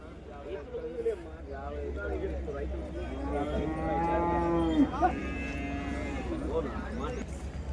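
Ongole bulls at a cattle market, a drawn-out deep moo rising near the middle, with a low engine-like hum and murmuring voices around it.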